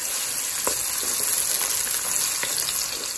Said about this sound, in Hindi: हम प्याज को ब्राउन करेंगे।